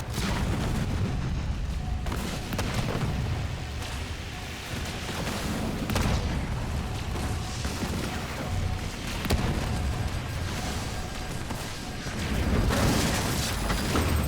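Mines detonating in the real-time strategy game Halo Wars 2, a string of muffled booms and crackling blasts recurring every couple of seconds over a steady battle din, fairly quiet and with no voices.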